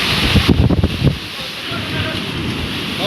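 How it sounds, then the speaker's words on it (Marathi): Whirlwind storm with strong gusting wind buffeting the microphone, loud rough bursts at first settling into a steady roar. "वावटोळ आहे रात गोल वावटोळ आहे."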